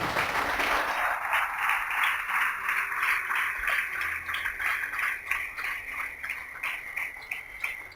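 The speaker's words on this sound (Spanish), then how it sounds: "Te invito a que le des un aplauso a Cristo de gratitud." A church congregation applauds loudly and steadily, a dense wash of many clapping hands that holds throughout and fades only slightly toward the end.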